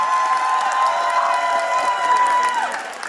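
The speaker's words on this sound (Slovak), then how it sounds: "Takže dajte ešte raz veľký potlesk." Audience applause and cheering at a live radio show event, loud sustained clapping with crowd shouts filling the whole stretch, fading slightly at the end.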